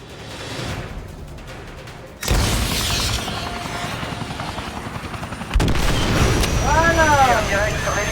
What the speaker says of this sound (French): Tir direct sur l'hélico ennemi.